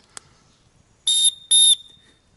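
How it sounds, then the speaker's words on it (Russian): A very loud survival whistle found with a fire steel gives two sharp, piercing shrill blasts, each about a quarter second long, close up, after a faint click. "Свистит сумасшедшей силой."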